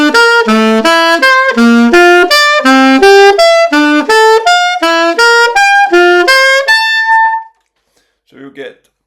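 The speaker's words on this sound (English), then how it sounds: "And with the Bach triad it would sound like this instead." A phrase of Bach-style triads moving in seconds, played as a brisk series of bright, evenly paced synthesized chords with wide leaps between low and high notes, ending on a held tone before a brief faint sound.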